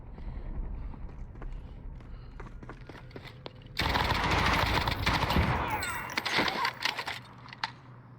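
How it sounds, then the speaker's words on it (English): Gunfire crackles through a Call of Duty: Warzone match, with scattered distant shots at first, then a dense, loud stretch of rapid firing that trails off into sporadic pops. "People shooting everywhere."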